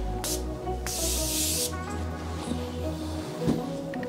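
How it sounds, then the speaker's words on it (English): A Morphe Mini Continuous Prep and Set Mist bottle sprays in two bursts, first a short hiss, then a longer continuous mist lasting under a second, close and clear over a quiet room hum. "we're gonna go with the Morphe Mini Continuous Prep and Set Mist."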